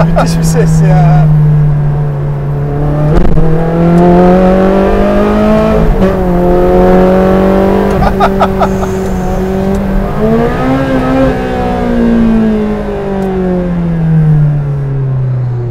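Close, loud revving from a Ferrari Challenge Stradale with the exhaust valve open, the engine note swelling and easing in repeated pulls with a sharp blip midway, accompanied by brief talking.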